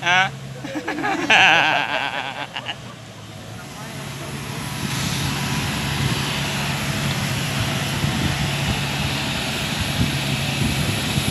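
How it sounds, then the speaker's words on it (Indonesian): A propeller airplane engine drones steadily nearby, loud and continuous, with a brief rush of wind and handling noise at the start, as a Hajj pilgrim flight lands at Padang. "Pesawat"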